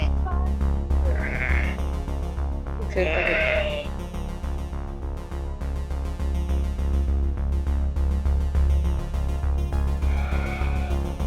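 Sheep bleating as a flock gathers at a well in a hot desert village, several loud nearby bleats over a steady low rumble, with a voice briefly audible.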